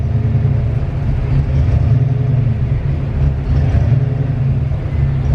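Car engine with a turbo, limited to about 150 horsepower by its rev limiter, pulled hard all the way to the limiter, producing a loud, steady low rumble with little change in pitch.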